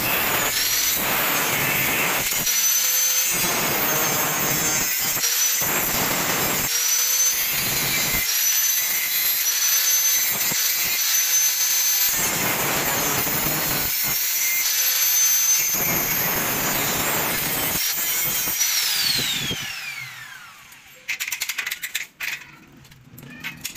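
An aluminium sliding door rail cover being cut to size with a power saw, a loud, steady grinding whine running nearly twenty seconds with brief dips, then winding down into quieter handling noises.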